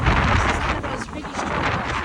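Strong wind gusts buffet the microphone in Las Vegas, a steady broadband roar with rumbling low buffeting that barely eases throughout, loud and close with no clear speech.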